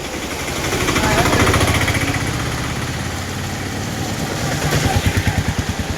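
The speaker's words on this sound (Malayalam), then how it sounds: "ഒരു വണ്ടി" A motor vehicle, likely a motorcycle, passes along a rain-soaked village road beside a flooded paddy field in the morning, its engine a steady nearby drone with rhythmic pulsing that swells and fades over several seconds.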